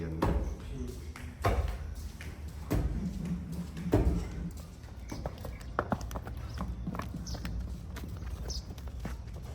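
Mares being led at a walk on a horse farm, their hooves clip-clopping in irregular steps at close range, mixed with rustling and knocks while people talk nearby.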